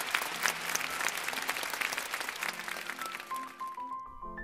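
Applause from an audience at a Tokyo piano competition awards ceremony honoring bronze prize winners, a dense steady clapping that runs for several seconds before tapering off as a sustained tone rises at the end.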